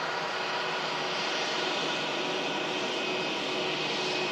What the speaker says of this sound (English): British Airways Airbus A319 coming in from London Heathrow.